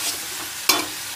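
Spinach stirred in a pan in a village kitchen, with a steady soft frying hiss broken by two sharp scraping strokes of the spoon against the pan, close and fairly loud, no voices.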